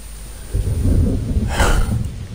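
A thunderstorm in a Roblox game, a loud low rumble swelling in after half a second and rolling for about two seconds, with a brief hissing burst in the middle.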